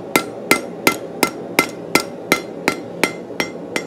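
A blacksmith's hammer strikes metal on an anvil in a steady rhythm, about eleven sharp ringing blows roughly a third of a second apart, loud and close with nothing else over them.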